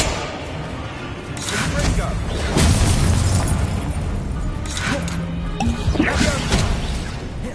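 Spell explosions from combat in Hogwarts Legacy, a series of booming crashes and thuds over a busy battle din, with game voices speaking in the background.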